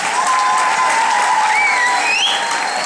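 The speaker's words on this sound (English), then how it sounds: "give them a round of applause" Middle school students give a round of applause for two guest visitors, a loud, continuous wash of clapping from a large crowd with whistles and cheers rising above it.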